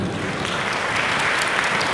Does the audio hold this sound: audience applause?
yes